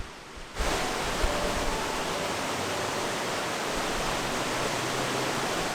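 Shypit waterfall, a 14-metre cascade in the Carpathians near the foot of Mount Gymba, roars as a dense, constant broadband rush that starts abruptly and holds steady and loud with no voices.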